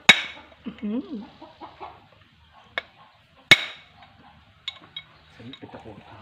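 Hammering during a center shaft seal replacement on a Massey Ferguson MF455 tractor: two sharp metallic strikes ring out clearly, spaced a few seconds apart, among chatter, clucking and other background sounds.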